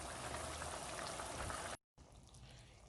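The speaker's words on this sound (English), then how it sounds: "So I'm gonna let this simmer down for like 5 minutes" Brown stew red snapper simmering in a pot, Jamaican style. A close, dense bubbling hiss is broken by a brief silent gap, then resumes more softly.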